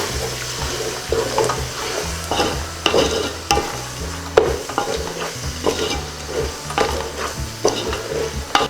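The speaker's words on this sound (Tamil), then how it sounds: "இது நல்லா கிளறணும்." Beef biryani masala with chili powder is stirred in a pan, giving repeated scraping spoon strokes over a steady, moderate sizzle, close and continuous without talk.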